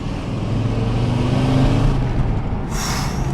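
A truck passes by on the road, its heavy engine rumble loud and close and holding steady before fading as a brief high hiss rises at the end.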